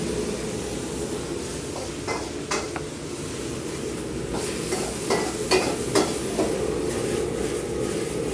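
Vegetables sizzling in hot oil for a Thai vegetarian dish, a steady close frying hiss broken by scattered clinks of a utensil stirring against the pan.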